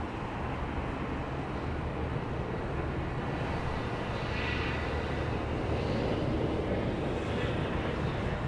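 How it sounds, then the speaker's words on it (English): A Southwest Airlines jet from Tampa approaches Dallas Love Field over downtown, a broad steady engine roar and rush with a faint whine, continuous and fairly distant. "Coming in over to the downtown district right now, flight 359, Southwest Airlines from Tampa"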